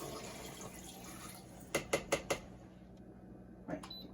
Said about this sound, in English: I'm about to pour this this chicken broth in here